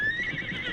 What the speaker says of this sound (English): the horses stamped the ground and squealed in terror.